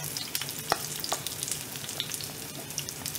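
Scallion pancake batter sizzles and crackles steadily in a hot skillet, a constant close frying hiss with small pops throughout.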